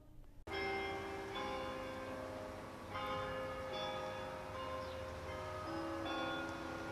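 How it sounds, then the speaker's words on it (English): Church bells pealing in the town of Indiana, Pennsylvania, a sustained ringing with overlapping strikes and lingering tones, moderately loud and reverberant, after a brief sharp onset. "The sound of church bells across Indiana is a familiar one."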